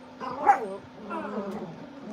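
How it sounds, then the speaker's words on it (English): Several dogs bark and yip indoors at something outside, a burst of agitated barking followed by continued quieter yapping over about two seconds, with no talk. "dogs are upset at something outside."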